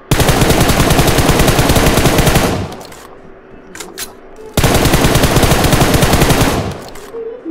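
Rapid automatic gunfire in PUBG Mobile, two long loud bursts of fast repeated shots separated by a brief lull with a few faint pops.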